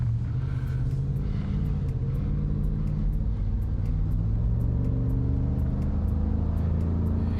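A Chevy Silverado ZR2 Bison's naturally aspirated 6.2-litre V8 runs with a deep, steady, throbbing rumble and a slight rise in revs, close and continuous with no talk over it.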